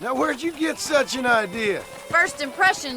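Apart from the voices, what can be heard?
No everyday noises stand out.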